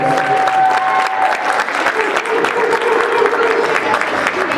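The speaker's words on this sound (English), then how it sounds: "Can we one more round of applause?" Audience applause at a school feeder pep rally, a steady wash of clapping from a large crowd filling the space, with a few voices and cheers mixed in.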